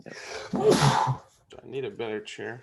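A single sharp sneeze bursts out at close range during a live forex trading session, with someone talking just before and after it.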